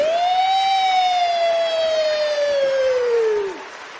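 A voice imitates a police car siren in one long, loud, sustained wail that holds steady, then slides down and fades at the end.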